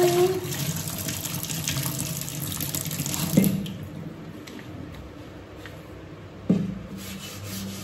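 An item is washed and rubbed under a running tap, with steady water noise and scrubbing, then the flow cuts off with a thud. After a quieter stretch of light rubbing, a second knock sounds.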